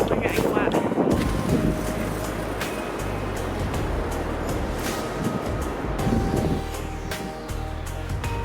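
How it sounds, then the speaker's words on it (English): Steady wind buffeting a microphone outdoors in New Zealand during a long-distance bicycle ride, a constant low roar with gusty swells throughout. "It's windy"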